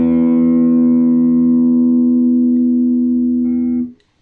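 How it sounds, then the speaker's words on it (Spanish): Guitar sixth string plucked with moderate force, a single low note ringing steadily for nearly four seconds and slowly fading before being cut off, close and alone. "Si yo aplico sobre la sexta cuerda una fuerza moderada,"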